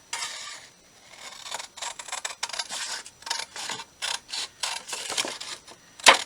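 Scissors snipping paper for a handmade collage, a run of short crisp cuts in uneven rhythm, close and moderately loud, ending with a sharper snap.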